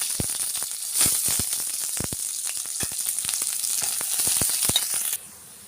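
Cumin, mustard seeds, garlic and curry leaves sizzle steadily in hot oil in a pan for a dry potato dish, with sharp crackles and pops scattered throughout before the frying cuts off near the end.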